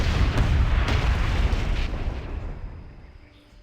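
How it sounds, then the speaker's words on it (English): Anti-aircraft gunfire explosion in a Civilization strategy video game: a loud, dense rumbling blast with sharp bursts in the first two seconds, then fading into a decaying tail, no talk over it. "it told me I was hit with an anti-aircraft gunfire"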